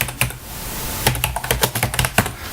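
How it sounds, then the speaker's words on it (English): Quick bursts of keystrokes clatter on a computer keyboard nearby, irregular clicks clustered in short runs with a brief pause in the middle. "I can type in Oregon CIS or CIS Oregon"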